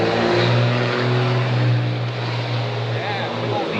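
A big old diesel truck rumbles past outdoors with a steady, loud low drone that fades slightly over a few seconds, while a voice talks over it.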